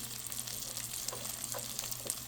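Washed dried fesa fish (shutki) frying in a pan, a soft steady sizzle with occasional light crackles and stirring scrapes, quiet and close over a low background hum.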